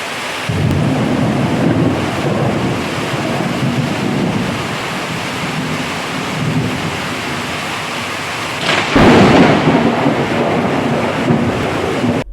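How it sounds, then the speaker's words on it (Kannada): A coastal thunderstorm in Dakshina Kannada and Udupi brings heavy rain and wind buffeting the microphone, with a deep rumble of thunder and a louder crash near the end. "ಕರಾವಳಿಯಲ್ಲಿ ರವಿವಾರ ಸುರಿದ ಗುಡುಗು ಸಿಡಿಲಿನ ಮಳೆಗೆ ಇಳೆ ತಲ್ಲನಗೊಂಡರೆ"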